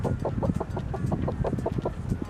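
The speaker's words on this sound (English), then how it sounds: "Next we visit the ladies, the chickens." Chickens in a home garden cluck in steady, overlapping bursts close by, a busy flock chattering continuously without any talk.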